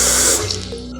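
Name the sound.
water being added to spices for rice drink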